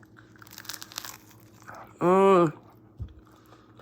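Someone bites into a homemade crunchy wrapped taco, making a quick run of close, crisp crunches, followed by a brief spoken word.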